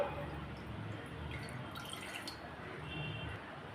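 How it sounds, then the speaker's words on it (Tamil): A thin stream of water pours steadily into a pot, a soft continuous splashing that stays fairly quiet throughout. "இப்போ அரை கப் அளவு தண்ணி சேர்த்துக்கலாம்"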